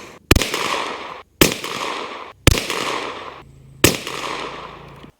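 Four sharp rifle shots from a Savage B22 firing Federal Auto Match 40 grain ammunition at an outdoor range, spaced about a second apart, each a loud crack with a short ringing tail.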